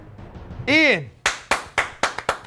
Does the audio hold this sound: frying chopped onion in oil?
no